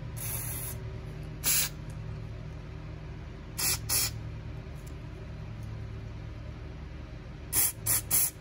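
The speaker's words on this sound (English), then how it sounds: "spray out the inside a little bit with some car cleaner" Car cleaner sprayed into the carburetor of a Tecumseh engine on a Craftsman Eager 1 lawn mower, heard as several short, sharp aerosol hisses in bursts at close range over a low steady background hum.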